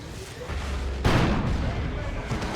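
A heavy cannon blast from a Dawn of War 2 3v3 match booms out about a second in, followed by a rumbling battle wash, with a commentator talking under the din.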